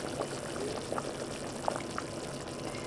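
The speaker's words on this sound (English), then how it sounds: "our soup has come to a boil" Creamy Zuppa Toscana soup bubbling at a boil in a pot, a steady close wash of liquid churning with occasional small pops, no talking.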